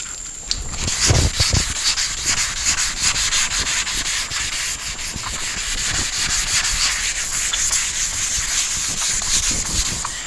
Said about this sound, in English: What's nice about the wet sanding is that you don't have all the dust to deal with